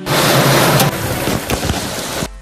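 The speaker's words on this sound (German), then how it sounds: "It's a little bit rainy." Rain falls steadily as a dense, loud hiss on a beach day, continuous throughout and cutting off sharply near the end, with no talk.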